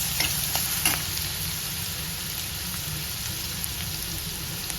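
Garlic sautés in a pan with a continuous close sizzle and rain-like hiss, plus a few brief stirring knocks early on. No one talks.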